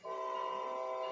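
Simulated train in Train Sim World 2020 running under braking, a steady sustained tonal drone with horn-like harmonics that holds evenly throughout at moderate level.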